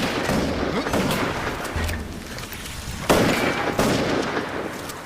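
Bursts of gunfire crack repeatedly over a rumbling background, with a sharp volley partway through.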